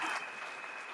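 A church congregation claps for the Lord in a short, fairly faint burst of applause that tapers off within a second.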